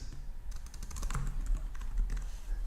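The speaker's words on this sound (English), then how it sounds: "So let's type this out." Code being typed on a computer keyboard, a steady run of quick, close key clicks with a few heavier strokes, continuous and alone with no talk.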